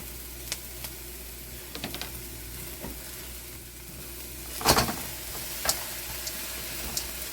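Beef fried rice with frozen ingredients sizzles steadily in a wok, a constant soft frying hiss broken by a few sharp clicks and scrapes of stirring.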